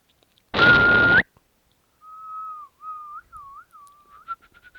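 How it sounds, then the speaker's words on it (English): Near, clear whistling by a person: a run of short tuneful notes that rise and dip, following a brief burst of broadband noise, with no talk over it. "So yes, we can whistle."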